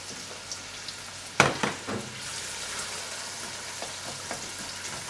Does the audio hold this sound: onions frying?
yes